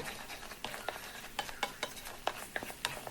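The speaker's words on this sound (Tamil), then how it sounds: "இப்போது அடுத்த ஸ்டேஜ் கொதிக்க ஆரம்பிச்சிருச்சு" A thick milk peda mixture bubbles in a pan, with irregular soft pops and spoon-like clicks over a constant hiss, close by.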